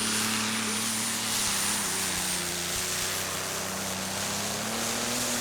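Super stock tractor pulling engine adapted for the Light Modified class at the Bernay Eurocup, a loud, steady, sustained droning roar held close without break.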